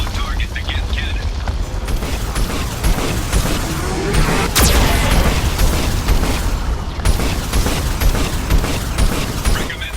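Heavy booming and mechanical rumble from a Geth cannon firing in Mass Effect 2 Legendary Edition on PS5, a loud dense roar with a sharp burst near the middle, layered under game voice chatter.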